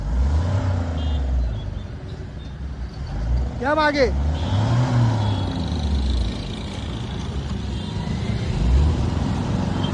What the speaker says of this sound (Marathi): बघा किती ट्रॅफिक करून ठेवले